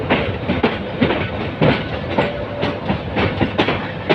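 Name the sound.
train leaving Kamalapur railway station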